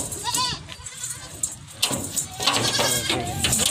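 Several goats bleat as they pass by on a farm, a few nasal calls rising above a busy outdoor background, with people talking nearby.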